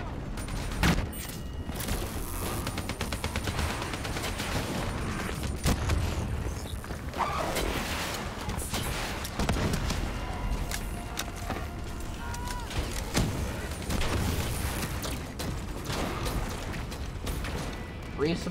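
Dense, continuous gunfire and explosions from a Call of Duty: Black Ops 3 campaign battle, with steady bursts and booms throughout and a player talking over the combat.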